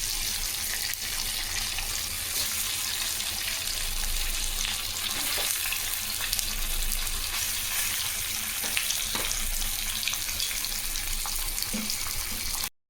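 Fish rubbed with chilli and salt sizzles steadily in a little hot oil in a pan for a Kerala-style fish curry, a dense, continuous hiss at close range with no voices.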